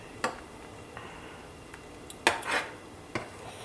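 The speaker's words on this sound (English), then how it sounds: "just stir a few times" A spoon clinks a few times against a pot of tea on the stove, with sharp, separate taps spread out across quiet, and one cluster of scraping knocks near the middle.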